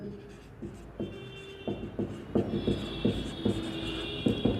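Chalk or marker writing on a board during an English grammar lesson, a series of distinct tapping strokes at an irregular pace, close, under faint room noise and a thin tonal hum.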